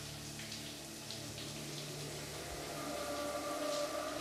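Shower water runs steadily in a hotel room in Hitman: Absolution, a soft, continuous hiss at low level with a faint tonal hum underneath and no speech.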